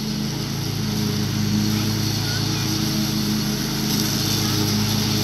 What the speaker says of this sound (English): mowing down these super tall grass and weeds